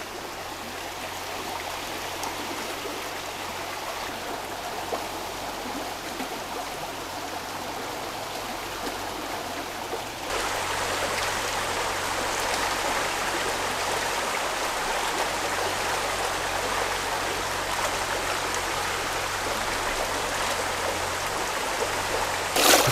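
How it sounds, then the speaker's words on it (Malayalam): A steady rushing mountain stream, swollen by earlier rain, flows continuously past a small watermill, growing slightly louder partway through, with no voices. "മലയിൽ നേരത്തെ മഴ പെയ്ത് ആ വെള്ളം അങ്ങനെ വന്നുകൊണ്ടിരിക്കണം"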